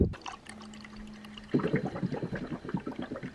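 Water pours into a cup from a filter rather than the tap, starting with a brief hum then a bright, bubbling gurgle of filling that runs close and steady to the end, with no talk.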